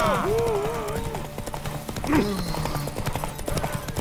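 A horse clip-clops in The Witcher 3, its hoofbeats mixing with a brief whinny-like cry while characters speak over the scene.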